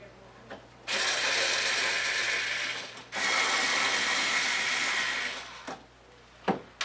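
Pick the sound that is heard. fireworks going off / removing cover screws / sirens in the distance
removing cover screws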